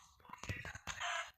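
A chicken is struck repeatedly in the Minecraft video game, giving a quick series of short, close, clucking hurt sounds over about a second, with a brief pause partway through.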